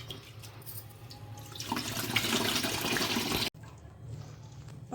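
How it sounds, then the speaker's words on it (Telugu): Water splashes and swishes as toor dal lentils are rinsed in a pressure cooker, a close, continuous sloshing that builds in the middle, then a short pause and softer trickling. "పప్పు అయితే కుక్కర్లో శుభ్రంగా 2 సార్లు అయితే పప్పుని కడుక్కోవాలి"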